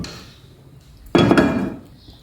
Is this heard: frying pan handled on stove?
yes